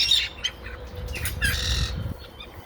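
Parrots kept outdoors squawk in loud, harsh bursts across the whole moment, a cluster of rough calls close by with some fluttering, and no one speaking over them.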